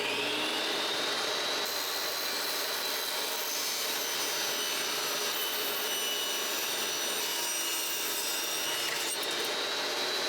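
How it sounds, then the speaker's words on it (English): A table saw runs freehand through a wooden filler piece for door trim, giving a steady, loud, continuous cutting whine with a high ringing edge that holds for the whole stretch, with no talking. "I'm gonna just freehand it on my table saw."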